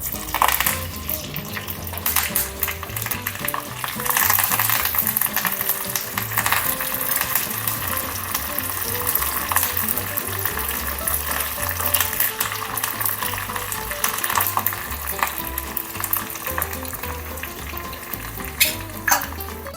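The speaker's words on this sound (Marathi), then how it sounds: "आता तेलामध्ये मोहरी, मिरची, कढीपत्ता" Mustard seeds, chili and curry leaves sizzle in hot oil for a dhokla tempering, a continuous loud crackle with popping bursts and occasional clinks of a spoon against the pan.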